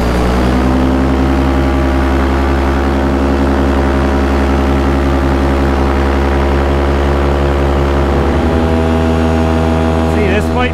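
A Fresh Breeze Top 80 paramotor drones steadily overhead as it comes in to land in a small field, its loud propeller engine holding a constant pitch throughout, with a slight shift near the end.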